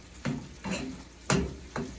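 Ground beef frying in a pan with garlic being added, heard as a steady sizzle broken by four sharp scraping stirs of a utensil against the pan, close and alone without talk.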